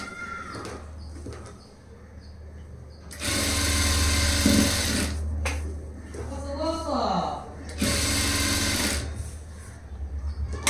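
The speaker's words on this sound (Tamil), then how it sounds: "இதே மாதிரி எண்டு வரைக்கும் தைச்சு வச்சுக்கலாம்." A sewing machine stitches the lining of a blouse in two loud bursts of rapid whirring, separated by quieter pauses with handling noises and faint talk.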